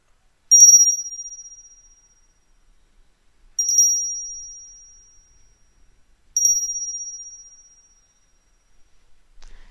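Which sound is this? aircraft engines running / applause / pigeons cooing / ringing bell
ringing bell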